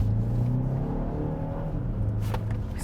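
The 2-liter turbocharged four-cylinder engine of a 2023 BMW X1 with a seven-speed dual-clutch revs in sport mode, a loud, steady rising drone heard from inside the car.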